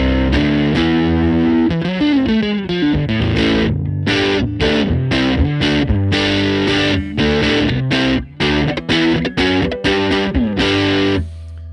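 A distorted electric guitar played loud through a Fender Tone Master Pro amp, chugging chords and sharp stabs with brief gaps, heavy and close throughout.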